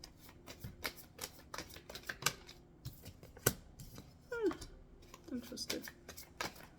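Tarot cards are shuffled and drawn by hand nearby, with crisp rapid riffles and sharp snapping flicks coming in irregular bursts while a voice speaks over them.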